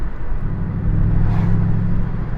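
A Ford Mustang Bullitt V8 exhaust rumbles deep and steady from inside the car while accelerating, a loud continuous low drone that swells slightly midway.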